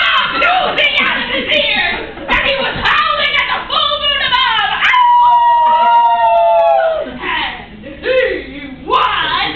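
A human voice imitates a wolf howling at the full moon in a horror play, drawn-out rising and falling howls with yips and whimpers, loud and close, with talking and other voices mixed in.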